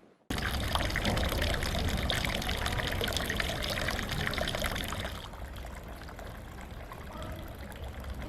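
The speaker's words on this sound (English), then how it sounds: "just a dripping tap." Water trickling steadily from a tap in a Venice B&B room, a continuous close splashing stream that runs loud for about five seconds, then drops to a quieter, thinner flow.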